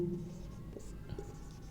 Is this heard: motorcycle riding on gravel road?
no